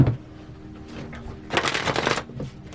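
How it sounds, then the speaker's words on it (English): An I Ching oracle card deck is shuffled in a quick riffle burst after a brief earlier rustle, close and fairly quiet. "This is the I Ching oracle deck. They just didn't want to shuffle."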